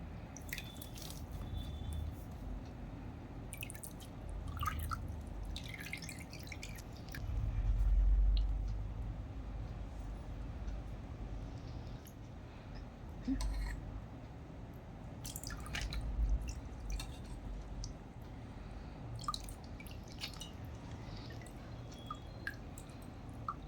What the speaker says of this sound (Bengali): ছাঁকনিতে ধুয়ে ধুয়ে রাখছি